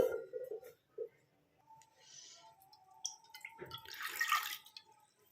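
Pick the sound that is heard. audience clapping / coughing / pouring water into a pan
pouring water into a pan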